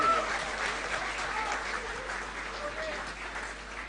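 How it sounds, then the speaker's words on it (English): A large audience at a university convocation ceremony gives steady, sustained applause, a dense wash of clapping that holds at an even level from start to finish with no speech over it. "So a big round of applause for you."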